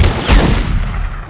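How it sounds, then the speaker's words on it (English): A shotgun blast in The Godfather 2 game: one loud, close boom up front with a second heavy report right after, then a rumbling decay that dies away into quiet. "I want to go with the shotgun."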